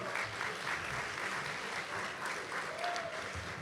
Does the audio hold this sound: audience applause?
yes